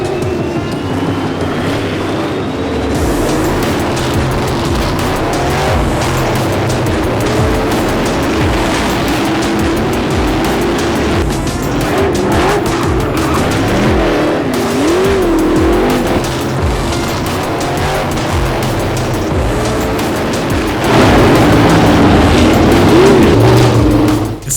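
Sprint cars race around a track in a close finish after a restart, engines roaring continuously with rising and falling revs and tire squeal as the pack passes, loud throughout.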